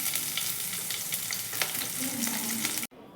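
Chopped garlic and chili frying in hot oil for pasta, a dense, steady sizzle close up with faint stirring scrapes, cutting off abruptly at the end.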